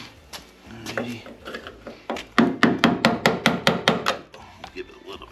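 A small hammer taps a spark-free drift during a fuel pump upgrade on a Foxbody with a 347ci engine, giving a close, steady run of sharp metallic strikes, about a dozen evenly spaced, with faint talk around them.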